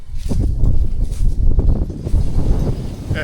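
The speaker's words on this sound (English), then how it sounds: "it's so windy out" Gusty wind buffets the microphone with low, rumbling bursts that swell and fade unevenly.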